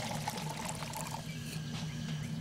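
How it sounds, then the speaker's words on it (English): Very hot water pours steadily into the lower half of a cut 2-liter plastic pop bottle, a continuous close splashing gurgle over a low background hum. "Now pour some very hot water into the lower part of the bottle."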